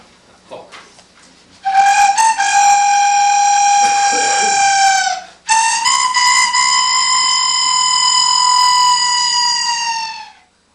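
A flute or pipe imitates a rooster's crow in a Taiwanese workshop at a 1996 world pipe festival. Two long, loud, bright sustained tones, each bending slightly, follow some faint handling sounds.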